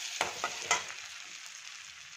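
Finely chopped garlic and ginger hit hot melted butter with a close, steady sizzle, marked early by a few sharp stirring clicks.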